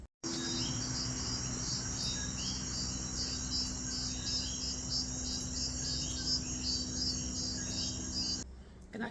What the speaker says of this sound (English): You also hear these frogs called coquis.